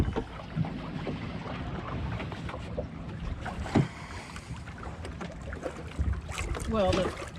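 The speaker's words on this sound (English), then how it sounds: "the dinghy that brings us to and from the sailboat" A small dinghy runs on open water out to a sailboat, with steady wind and water noise. People chatter faintly in the background.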